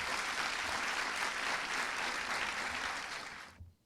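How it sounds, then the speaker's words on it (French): At the closing ceremony of a Haitian Model United Nations conference, an audience claps steadily in a dense, even wash of applause that fades and ends abruptly near the close. "Mesdames, Messieurs, je vous prie d'applaudir"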